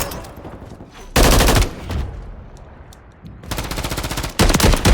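Rapid automatic gunfire from Modern Warfare 3 gameplay, two loud sustained bursts separated by a short pause, close and dominant, with a French-speaking voice faintly between them.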